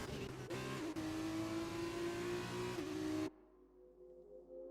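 An F2 car in the F1 2020 racing game lifting off the throttle at high speed, its loud engine whine dropping in pitch with crackling overrun for about three seconds before cutting abruptly to quiet.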